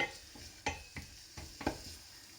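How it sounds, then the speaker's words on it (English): Garlic cooking in a pan on a home stove, a faint steady sizzle broken by a few sharp clinks as it gets stirred, with no talking. "I can just start to hear it sizzling now."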